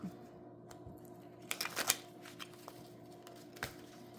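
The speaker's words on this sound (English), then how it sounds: "These are so hard to shuffle." Tarot cards being shuffled by hand, heard as a few quick, soft riffling bursts in a quiet room with near silence between them.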